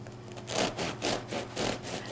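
Knife saws into a crusty artisan gluten-free bread loaf, rhythmic rasping strokes back and forth, close and steady with no talk.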